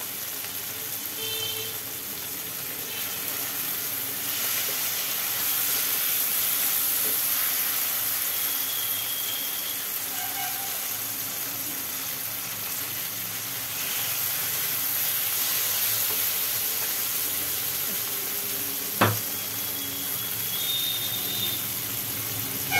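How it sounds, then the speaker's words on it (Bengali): Potatoes fry in a pan with a steady, soft hiss and sizzle that runs for a long stretch, broken once by a short clink, with no voices. "আলুগুলো একটু ভাজি ভাজি হোক।"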